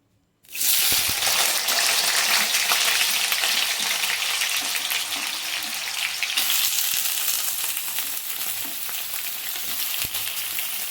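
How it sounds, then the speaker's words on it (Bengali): Diced potatoes dropped into hot mustard oil for a prawn and potato curry, starting with a sudden loud sizzle that settles into a steady, close frying hiss for about ten seconds. "এবার আলুগুলো আমি ভালো করে লাল করে ভেজে নেবো।"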